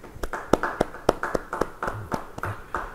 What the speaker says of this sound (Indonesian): Yang percaya beri tepuk tangan buat Tuhan.